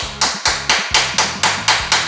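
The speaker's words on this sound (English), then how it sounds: "I'm gonna gently give it some taps just to kind of shake it up a little bit" Metal hammer tapping on a stuck, corroded bolt on a twin-turbo V12 Mercedes CL65 AMG engine, eight sharp evenly spaced strikes at a steady rhythm, close and loud, with no voices.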